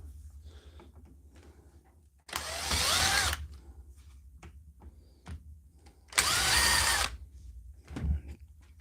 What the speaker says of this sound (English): Just keep taking out screws.